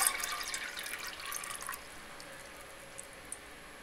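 One cup of water poured into a camping stove pot, a brief, faint splash and trickle at the start that fades out, followed by a couple of soft drips in near silence.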